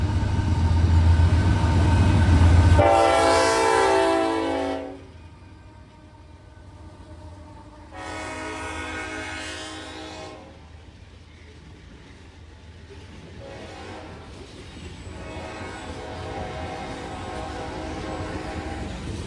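A CSX freight train passes at a rail crossing in Elkhart with a loud horn blast at the start, followed by a long rumble of rolling wagons and more horn sounds at a distance.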